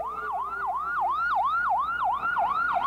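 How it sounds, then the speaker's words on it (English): An ambulance siren wails near and loud in a fast repeating up-and-down yelp as it arrives at the Huntsville Hospital emergency room entrance after a tornado. "There have been ambulances just coming in a steady flow."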